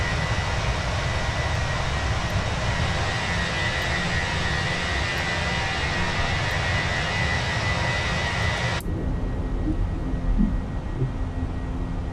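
Airbus A320 jet engines roar at takeoff in a flight simulator, a loud steady broadband rumble with a high whine, which suddenly drops to a quieter muffled hum near the end.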